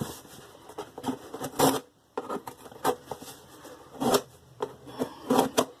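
Close scratchy rustling and tearing of cardboard as a sturdy mail package containing shaving gear is opened, in short irregular bursts separated by brief pauses.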